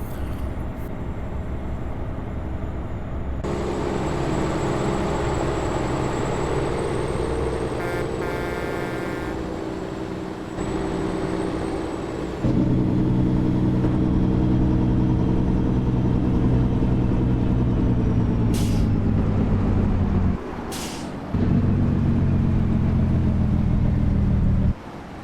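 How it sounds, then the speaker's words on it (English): Freightliner Argosy truck in American Truck Simulator, heard from outside: a loud engine drone with a deep, rumbling exhaust brake that kicks in, cuts out briefly and returns, with occasional sharp clicks. "And I noticed on the outside the exhaust brake is a little louder"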